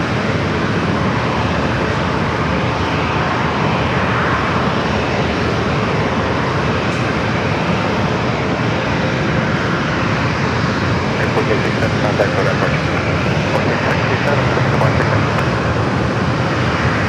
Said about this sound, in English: A321 in Neo heading to Philadelphia